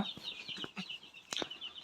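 Faint, rapid peeping and soft clucking of eleven-day-old Tiger breed chicks awaiting Gumboro vaccination, several overlapping calls close by in quick succession.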